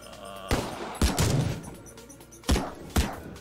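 Four sharp dual-pistol gunshots in Madness Combat Project Nexus 2 ring out in two quick pairs over a steady background hum, loud and close, with brief rumbling in between.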